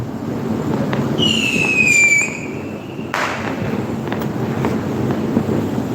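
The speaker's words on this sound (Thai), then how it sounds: "ได้ยินแต่เสียงพลุนะครับ ได้ยินแต่เสียงพลุกัน" Fireworks pop and crackle in the night air at an outdoor festival in Portugal, with a whistling rocket streaking up before a sharp burst, over a low background rumble.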